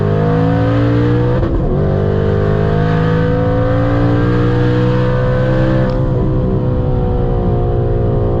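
A drag racing car on a boost-controlled run, running into overboost as the wastegate opens: a loud, steady close-up engine roar with rising harmonic tones, a brief rough stumble near the start and a shift in pitch later, no voices.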